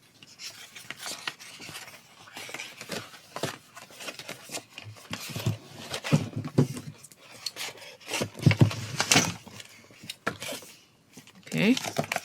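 Paper is trimmed for a creative journal, giving close, scratchy rubbing and rasping cuts in irregular bursts with brief pauses, and some low handling noise in between.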